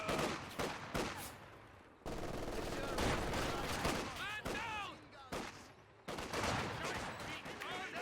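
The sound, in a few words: machine gun fire in Company of Heroes 2 video game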